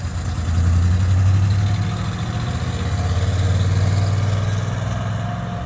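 A 1998 GMC Sierra pickup engine, recently fixed after a burst fuel line, idles steadily up close with a low, even rumble that swells slightly and holds, with no talking.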